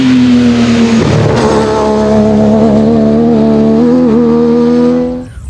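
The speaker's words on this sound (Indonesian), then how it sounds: "Ini mobil balap." Race car sound effect for a blue toy race car, a steady loud engine drone that rises in pitch and holds for several seconds before cutting off, no talking.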